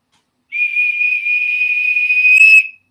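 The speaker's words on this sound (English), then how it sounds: "the fully obnoxious yard duty sounding whistle" A whistling mug gives a loud, piercing whistle blast, holding one steady shrill tone for about two seconds, then cuts off.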